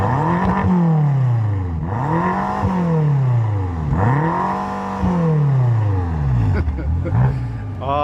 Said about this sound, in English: it is a BMW M twin power V8. So it is a twin turbo, twin scroll engine